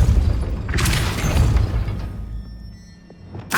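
Depulso spell cast in Hogwarts Legacy, a loud whooshing magical blast that bursts out, rumbles and fades, followed by another sharp burst at the end.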